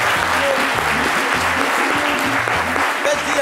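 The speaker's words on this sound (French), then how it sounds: "je vous demande d'applaudir très très fort." Audience applauding loudly in tribute after a parody performance, sustained dense clapping throughout over a low rhythmic music beat.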